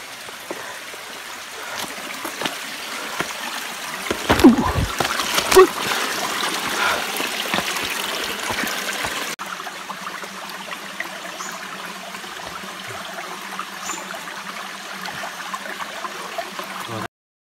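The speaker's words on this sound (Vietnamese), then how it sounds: "Bây giờ mình đã tới thác rồi" A forest waterfall and stream rush steadily, a broad close wash of flowing water with louder splashing bursts early on, then a smoother, even roar for the rest.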